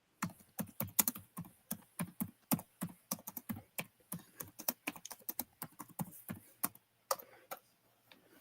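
Quick bursts of keystrokes on a computer keyboard as a search is typed, crisp clicks in uneven rapid runs, close and clear with no talking.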